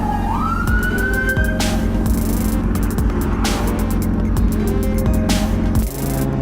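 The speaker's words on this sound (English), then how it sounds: "Oh, police. We got the police behind us." A police siren wails close behind a moving motorcycle, rising and falling steadily over the constant drone of the bike's engine and wind rush, then cutting off near the end.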